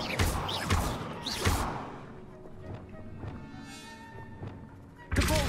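Spell effects in the Hogwarts Legacy video game, a couple of heavy thunks and a whooshing burst, then a shimmering magical tone and another impact, close and moderately loud.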